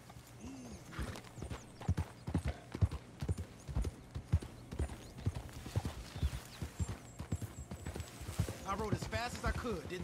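Horse hooves clip-clop in a steady, uneven rhythm, close and clear, from a small horse in Red Dead Redemption 2, with a brief whinny and some game sounds toward the end.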